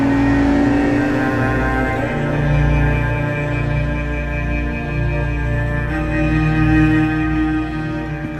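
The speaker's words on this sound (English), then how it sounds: "you're going to hear the exhaust note of that engine, the V12 engine on song" An Aston Martin DB9's V12 runs with a loud, steady, smooth exhaust note that swells slightly as it revs, heard close and alone with no talking.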